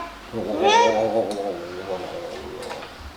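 A cat lets out one drawn-out, whining meow up close, rising and then trailing off, while people talk in the background.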